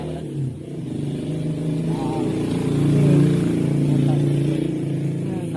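A voice imitates a revving motorcycle, with a wavering engine-like drone that swells and falls over several seconds.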